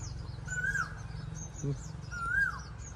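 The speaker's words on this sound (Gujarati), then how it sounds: "ઓલકા કોયલ ટવકા કરે" Two rising, whistled Asian koel calls ring out at moderate distance, about two seconds apart, over a steady low rumble and faint insect buzz.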